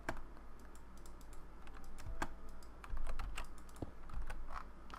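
Mouse buttons clicking rapidly and irregularly at a computer while playing Minecraft, a steady run of crisp, close plastic clicks over a low background hum.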